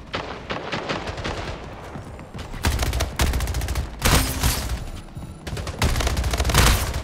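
Dense bursts of rapid gunfire from the video game Splitgate, loud and close, coming in several long volleys with brief pauses between them.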